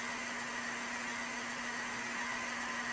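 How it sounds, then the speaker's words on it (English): An MTH HO scale ES44AC model locomotive sound unit idles in a steady, faint, even hum with a constant low engine drone and a thin electronic hiss, unchanging throughout. "as you can hear, she's right here in front of us idling."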